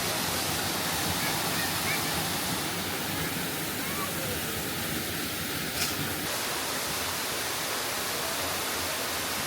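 A waterfall roars with a steady, dense rush of water that stays loud and unbroken throughout, close by and filling the whole scene.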